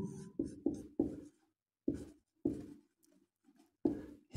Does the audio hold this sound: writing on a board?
yes